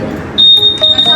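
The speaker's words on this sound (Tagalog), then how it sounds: "Nakabuhay na yung Alarm niya." A Honda ADV160 scooter's anti-theft alarm gives a sharp, loud, high electronic tone that sounds steadily after a brief lead-in, briefly interrupted partway, close by with background noise.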